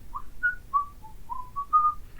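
Sulu from Star Trek whistles tunelessly, a short run of about seven clear, wavering notes, close and alone.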